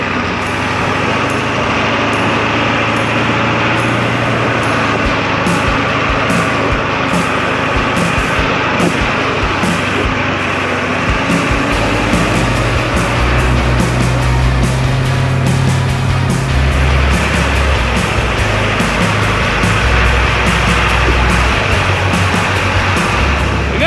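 A Ford 7.3 Excursion overland build climbs Black Bear Pass on aired-down BFG tires, its diesel engine a loud, steady close drone with rumbling, bumping low-end and shifting load throughout, no voices.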